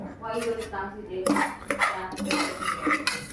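Metal spoon stirring food in a pot, with a busy run of scraping, clinking and knocking against the pot sides, loud and close, with no talking.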